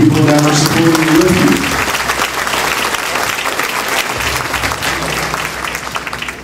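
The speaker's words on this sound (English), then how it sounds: "Give yourselves a round of applause and the people that are supporting you" An audience applauds at a football event honoring former Washington Redskins and Penn State player LaVar Arrington, with a loud, dense wash of clapping that follows a brief stretch of talk and then continues steadily throughout.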